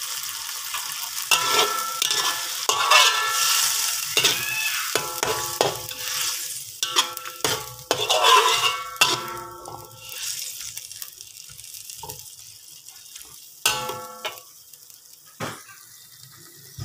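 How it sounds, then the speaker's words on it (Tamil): Prawn masala with a little added water simmering in a pan, a steady bubbling sizzle broken by a spoon stirring and scraping and occasional clinks of utensils, close up, with no talk. "அது கொதிக்குது."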